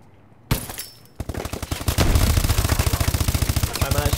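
Rapid automatic gunfire in the video game Call of Duty Advanced Warfare, a loud sustained burst of shots in quick steady rhythm after a single opening blast, with a voice talking over it.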